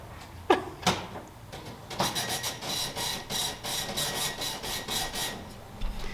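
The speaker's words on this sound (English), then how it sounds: "I'm printing your receipt for this deposit." A bank receipt printer prints a deposit receipt, opening with a couple of sharp clicks and then a rapid, close series of rhythmic mechanical chattering bursts as the slip feeds out.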